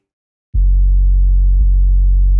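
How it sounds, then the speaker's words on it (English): A deep, steady sub-bass sine wave tone in a trap track starts abruptly and holds loud and unchanging, with one brief dip midway. "Just a sine wave. You don't have to get crazy with the sub bass."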